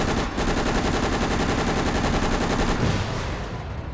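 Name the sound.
9mm gunfire in Resident Evil: Operation Raccoon City video game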